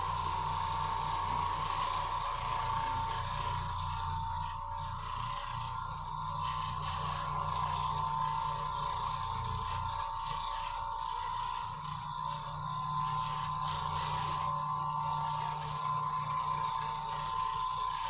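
An Oreck Orbiter floor machine scrubs a small urine-soaked area rug, giving a steady mechanical whir and hum that runs unbroken throughout.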